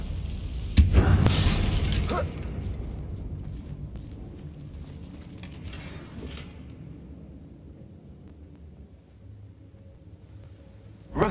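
A Confringo spell explosion in the Hogwarts Legacy video game: one heavy, booming blast goes off near the start, then its rumble slowly fades into a quiet tail.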